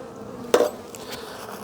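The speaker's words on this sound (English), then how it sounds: "Those bees look pretty strong." Honey bees buzz around an open hive box, a close, steady droning hum with a sharp knock or clink partway through as equipment is handled.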